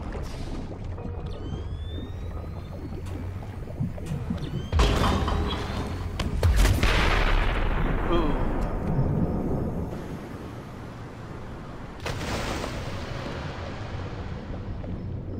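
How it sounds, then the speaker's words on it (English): Muffled underwater bomb blasts boom in the shark-hunting game Depth, with deep rumbling surges and a long rushing wash over a steady watery drone, one big swell midway and another thump later. "I hear bombs, dude."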